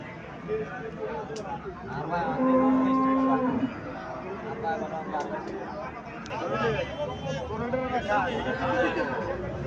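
Cattle low several times at a busy cattle market in Cumilla, Bangladesh, loud nearby moos standing out over constant crowd chatter and talking voices.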